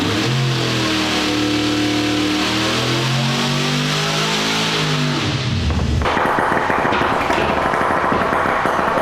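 An engine on a dyno revving hard, a loud sustained roar rising and falling in pitch, then abruptly shifting to a harsher, rougher drone as it settles, close and alone.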